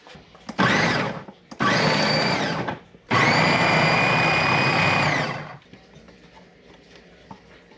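A food processor chops carrot greens in three loud, close bursts of motor whine and blade clatter, two short and one longer, separated by brief pauses. Quiet handling follows the last burst.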